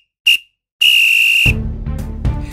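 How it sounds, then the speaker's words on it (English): A referee blows the final whistle at a football match on a rainy day, a short toot followed by a long, loud, steady blast, then broadband crowd and wind noise. "there goes the final whistle"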